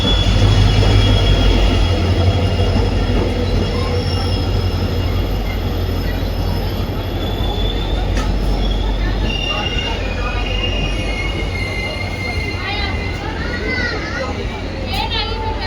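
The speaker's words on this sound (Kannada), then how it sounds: "20 ನಿಮಿಷ ಡಿಲೇಯಿಂದ ನಾವು depart ಆಗ್ತಾಯಿದ್ದೀವಿ Madgaon junction platform number 1ಇಂದ." Goa Express pulling out of Madgaon Junction platform 1 behind a WDP 4D diesel locomotive: loud, continuous close rumble of rolling coaches with high wheel squeals rising later, and voices in the background.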